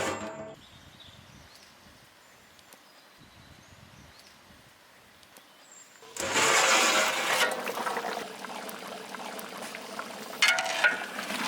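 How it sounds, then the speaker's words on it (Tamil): Chicken simmers in a covered pot for traditional vadi biryani. A faint, low bubbling gives way to a much louder, rushing bubble and hiss partway through, with no talking. "சிக்கன் நம்மளுக்கு வெந்துகிட்டு இருக்கு."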